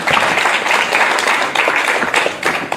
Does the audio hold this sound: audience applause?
yes